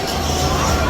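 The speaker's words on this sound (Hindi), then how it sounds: "पूरी मार्केट लगी भी नहीं है और इतनी भयंकर भीड़ हुई है ना यहाँ पे" A dense, steady crowd hubbub fills a busy street market, with many overlapping voices blending into a continuous loud babble that holds up through the whole short moment.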